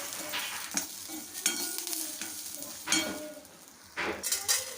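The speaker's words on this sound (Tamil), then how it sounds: "அந்த கருவேப்பிலையை ஜஸ்ட் ஒரு ஒரு நிமிஷம் அப்படியே நம்ம வறுத்துக்கலாம்" Curry leaves fry in a hot pan over a switched-off flame, giving a steady crackling sizzle broken by several louder bursts and stirring scrapes, with no talking.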